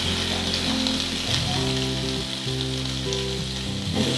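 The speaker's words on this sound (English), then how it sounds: "it's lovely for halloumi because you'll find you can hear that sizzle" Halloumi sizzles and fries steadily on a hot griddle over an induction hob, a loud, continuous crackling hiss heard up close with no voices.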